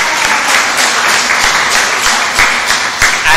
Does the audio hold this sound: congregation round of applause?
yes